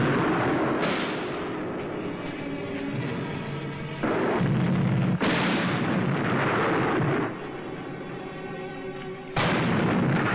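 Explosions and gunfire fill a Hindi film battle scene, with heavy booming blasts recurring every few seconds over a dense, continuous roar of combat, loud and without speech.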